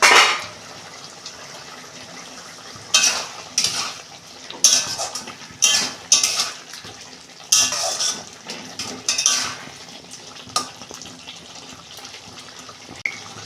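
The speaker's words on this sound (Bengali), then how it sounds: "দেখুন বন্ধুরা, ঢাকনা খুলছি।" A cooking pot lid being lifted off a simmering mixed-vegetable dish: a series of sharp metallic clanks and scrapes in irregular bursts over a quiet background, close and fairly loud, no talk.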